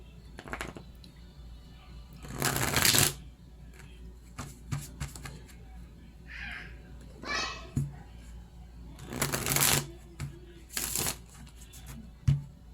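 Several bursts of tarot cards being shuffled, riffling loudly and close, separated by pauses while a voice speaks quietly in the background.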